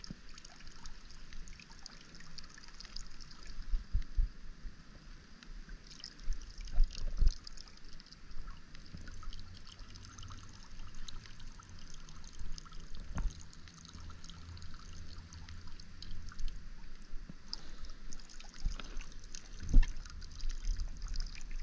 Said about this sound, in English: there's water dripping everywhere.